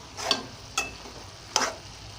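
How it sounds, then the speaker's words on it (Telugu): Amaranth leaf curry (thotakura) stirred in a pan, giving three short, separate scraping swishes spaced about half a second apart, close and fairly quiet, over a faint low background. "ఇప్పుడు తోటకూర అంతా ఇలా కలియపెట్టుకోవాలి."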